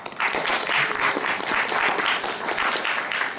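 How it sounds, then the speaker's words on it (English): An audience applauds a volunteer at an improvised theater show, a steady dense wash of clapping that holds evenly from start to finish with no voices over it. "A round of applause"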